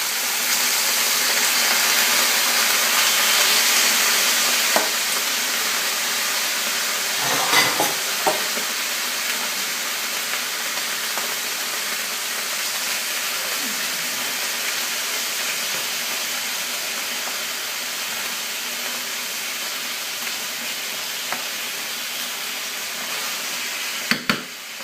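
Poultry pieces sear in a hot frying pan while skewers of chicken with bacon are prepared, giving a steady close sizzle and hiss with a few brief clatters of stirring and handling the food.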